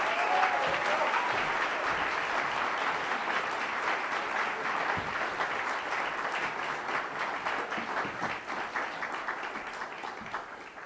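Sustained audience applause welcoming Bison Maine Taylor Keene of the Omaha tribe to the stage, a dense steady clapping from a large crowd that carries through the whole stretch and fades slightly toward the end.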